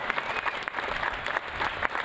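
Crowd applause for Army veterans at a Veterans Day ceremony, dense steady clapping from many people with a few louder claps standing out, moderately close.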